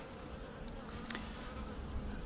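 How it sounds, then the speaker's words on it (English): Honey bees swarm over a hive frame with fresh comb, a dense, steady buzz that hums continuously up close with no talk over it. "So this is part of the original frame filled with bees"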